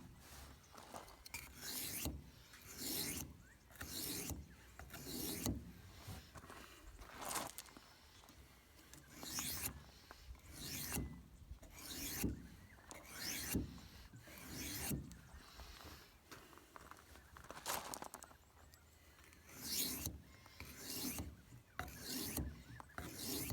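A knife blade is drawn over a coarse 1000 grit whetstone in regular back-and-forth strokes, each a rasping scrape, repeated steadily and close up with brief pauses between.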